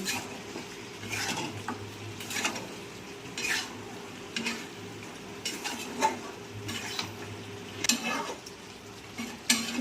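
Mutton sizzles and fries in a pan with a little water added as it dries out, while a spoon stirs and scrapes through it in steady, repeated strokes, close and moderately loud with no talking.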